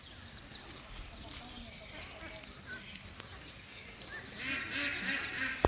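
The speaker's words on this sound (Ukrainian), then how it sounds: "Маленькі каченята, вже так давно не бачили маленьких каченят." Ducklings quacking and peeping in a busy outdoor farmyard, splashing in puddles, with soft high chirps and a louder burst of calls near the end, mixed with background chatter.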